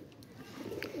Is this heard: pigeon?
yes